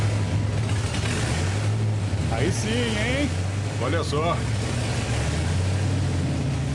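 An old diesel engine, idling steadily for the first time in about four years, its low, even rumble running loud and close throughout while people talk over it.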